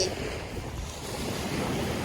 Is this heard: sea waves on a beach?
yes